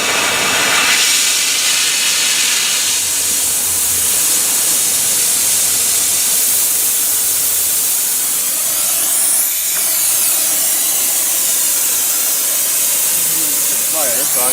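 A torch hisses steadily and loudly, heating a metal bracket for a Jeep Wrangler fog light install before welding, a continuous close roar that barely changes, with faint speech underneath.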